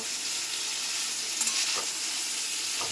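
Whole quail frying slowly in a pan on low heat, a steady soft hiss and fine sizzle with a brief scrape of stirring near the middle, close and even, with no voices.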